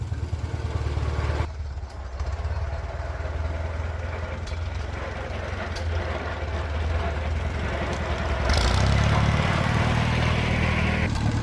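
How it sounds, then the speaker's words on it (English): An old tractor in second gear with a rough transmission: a steady, loud mechanical drone with gritty grinding texture that swells heavier toward the end, with no talking. "This transmission here sounds pretty rough"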